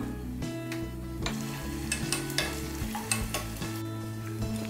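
Raisins and cashews for sweet pongal fry in a pan, giving a soft continuous sizzle with scattered stirring scrapes and ticks against the metal, with no voices.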